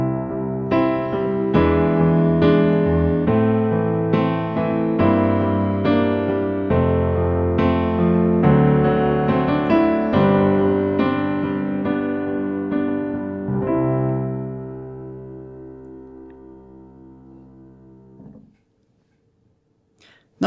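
Rich sustained chords move through a progression with secondary dominant chords, including a D dominant 9, at an even pace, then the last chord rings out and fades into near silence. No one speaks.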